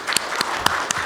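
Audience applause fills a seminar hall at a joint public-private corporate responsible business conduct seminar, a steady wash of many hands clapping for a little over a second, with a few sharper claps standing out.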